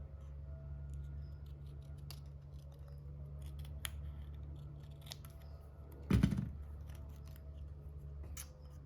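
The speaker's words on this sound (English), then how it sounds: "take our little scissors" A single short burst of small scissors snipping paper scraps, loud and close, over a steady low hum, with a few faint clicks and handling noises around it.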